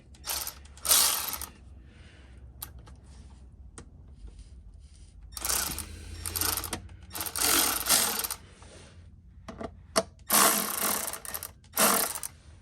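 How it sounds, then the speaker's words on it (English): An electric ratchet whirs in several bursts of a few seconds each, driving 10mm bolts on the gasket of a 2009 Lexus IS250, loud and close with short pauses between runs. "I just like to use it, the electric ratchet, put it in snug, not too tight."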